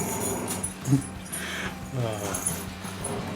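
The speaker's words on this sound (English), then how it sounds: "as the dogs decide to start playing behind me" Dogs playing indoors give off soft whimpers and brief yips in the background of a quiet room, with movement noises mixed in, and someone speaks throughout.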